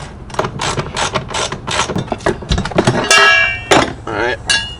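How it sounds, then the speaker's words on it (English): A Harbor Freight ratchet clicks in quick, loud bursts while bolts are loosened from a seat bracket in a turbo Miata drift car, with metallic clinks between strokes and a voice briefly present. "Fucking Harbor Freight ratchets just are the best."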